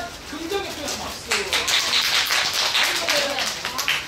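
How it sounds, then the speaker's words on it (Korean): Fans clapping at a K-pop fan sign event, a moderate burst of many hands applauding with talk and voices running underneath. "들었으면 긍정의 표현 박수."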